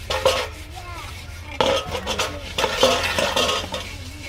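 Utensils, pots and dishes being washed, with repeated clinking and scraping of metal pans and cutlery in uneven bursts over a low background hum.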